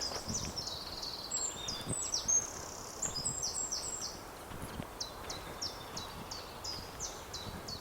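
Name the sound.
birds singing outdoors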